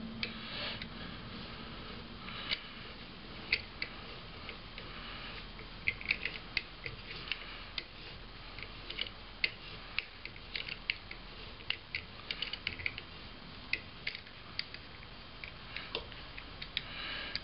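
A thread-reforming tool turns onto a threaded rod for a wooden camera tripod build, its teeth pressing into the existing threads with steady ratcheting clicks and small creaks that repeat close by, with no one talking.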